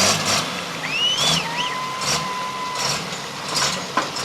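An old tractor's original engine runs at a light limited tractor pull, a steady mechanical drone with rising and falling whining tones over a broad background rumble.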